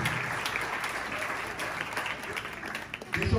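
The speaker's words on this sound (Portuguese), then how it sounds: "As palmas para engrandecer e exaltar o nome de Jesus." A church congregation applauds during a Santa Ceia morning service, sustained even clapping from many hands, fairly distant and soft, with a voice or two faintly under it and a brief louder bump near the end.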